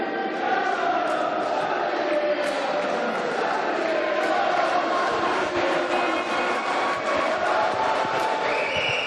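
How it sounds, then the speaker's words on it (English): A large crowd roars and cheers without letup at a 2014 varsity volleyball match between Keele and Staffs, a loud, dense wall of voices filling the hall throughout. "As you can hear, the crowd are pumped up for this"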